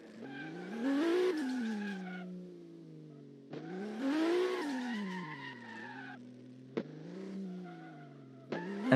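Car drifting with tires squealing in long sustained howls that rise and fall, two main slides with a shorter third, engine tone underneath and brief sharp clicks, fairly close and alone.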